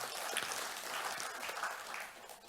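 An audience applauds SEA Games December 2019 medalists, a sustained, moderately distant patter of many hands clapping at an even level, with faint voices mixed in.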